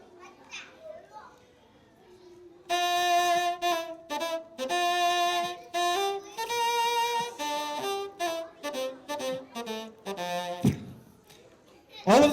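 A double reed woodwind, played with its reed attached, sounds a run of clear, reedy notes in short phrases with pauses between them, close and fairly loud, after a brief moment of children's voices at the start.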